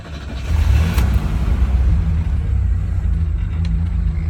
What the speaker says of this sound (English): listen to this hellacious sound that the compressor makes